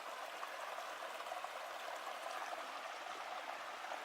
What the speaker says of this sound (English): There's quite a bit of water in this creek.